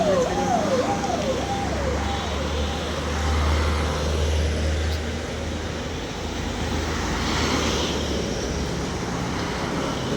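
Road traffic passes near a college, with a steady wash of engine and tire noise and a low rumble of vehicles going by, moderately loud, with no nearby voices.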